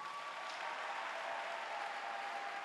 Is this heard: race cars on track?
no